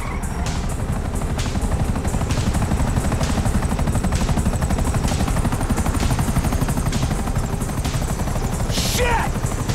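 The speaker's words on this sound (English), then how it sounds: "chopper." Helicopter in Grand Theft Auto 5, a steady loud rotor drone with rhythmic chopping, mixed with game noise and bursts of gunfire.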